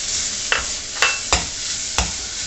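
Fresh turmeric frying in ghee for a vegetarian dish, a soft continuous sizzle with a few distinct spatula scrapes and taps against the pan, close up and without voices.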